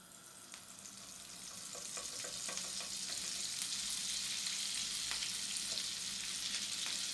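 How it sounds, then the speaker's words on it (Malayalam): Two cubes of butter melting in hot vegetable oil in a pan, a soft, steady sizzle with scattered pops that grows slightly louder, fairly faint overall. "ചൂടായ പാനിലേക്ക് കുറച്ച് വെജിറ്റബിൾ ഓയിൽ ഒഴിച്ചു കൊടുക്കാം. അതിൻ്റെ കൂടെ തന്നെ ഒരു 2 ക്യൂബ് ബട്ടർ ഇട്ട് കൊടുക്കാം."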